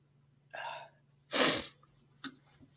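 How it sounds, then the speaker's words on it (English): A single loud sneeze bursts out mid-clip, preceded by a sharp intake of breath and followed by a small sniff, all against a low steady hum in a quiet room. "I had to sneeze"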